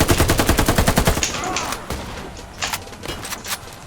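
Rapid gunfire in a video game hammers out as a loud burst of evenly spaced shots for about a second, then sparser scattered shots and game noise follow.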